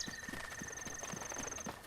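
Horse hooves clip-clop in a steady, rhythmic gait in the video game Breath of the Wild, moderately close, over a sustained high in-game tone.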